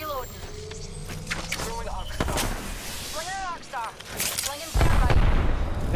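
Grenade blasts and bursts of gunfire in the shooter game Apex Legends, heavy booms and rapid shots stacking over each other, with a sharp loud explosion near the end and voices talking underneath.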